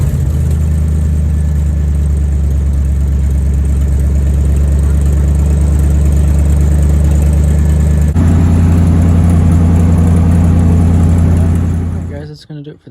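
A 1980 Ford F150 with custom turn-down exhaust idles loud and close, a deep steady rumble that shifts slightly in tone partway through before the engine cuts out at the end.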